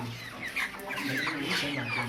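Hens cluck and murmur nearby in a soft, irregular stream of short calls, with a faint low hum beneath and no clear talk.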